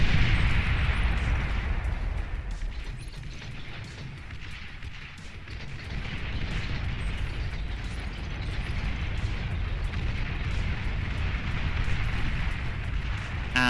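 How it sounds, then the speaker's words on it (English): Explosions rumble nearly continuously in the strategy game Beyond All Reason as a bomber run passes over a base: dense, heavy low booms with crackling bursts, swelling and easing over time with no pauses. "going into air, into a bombing run as it flies over the center of the base"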